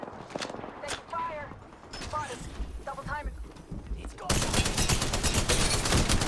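Rapid bursts of gunfire in the battle royale shooter Apex Legends, a busy run of loud shots and clatter that swells into a dense, sustained volley toward the end, with players talking over it.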